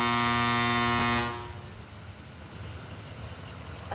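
A single long, loud vehicle horn blast holds steady for just over a second, then cuts off, leaving background traffic noise.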